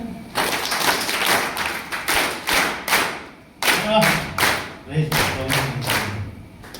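An audience at a Hindi Christian sermon claps in rhythmic bursts, loud, sharp synchronized claps in repeated patterned groups separated by short pauses, with brief vocal sounds between them.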